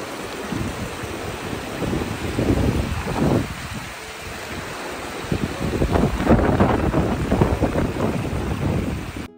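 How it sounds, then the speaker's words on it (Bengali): A mountain river near Denver rushes and babbles steadily while a breeze gusts across the microphone, the water and wind swelling and easing together with no voices. "পাহাড়ের নদীর এই কলকল শব্দ আর এই মনোরম হাওয়া"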